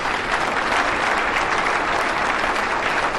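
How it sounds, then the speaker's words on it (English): A crowd at a Hall of Fame ceremony claps warmly for an inductee's grandparents, a thick, continuous wash of applause heard close and unbroken. "A big round of applause for my grandparents."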